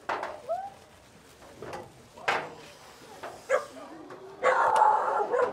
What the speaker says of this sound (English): Dog in the yard